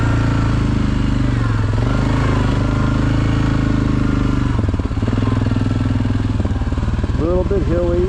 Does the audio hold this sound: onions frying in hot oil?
no